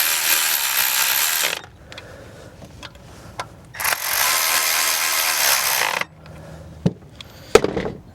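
A ratchet tightens the ignition coil bolts on a 2016 Chevrolet Silverado 1500 truck in loud, close bursts of rapid clicking, with two long runs and short taps and clunks between them.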